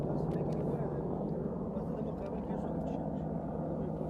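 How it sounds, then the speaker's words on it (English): A steady low mechanical drone of a surveillance helicopter overhead, fairly distant, with a constant rumble throughout and faint voices underneath. "We've had the usual surveillance helicopters"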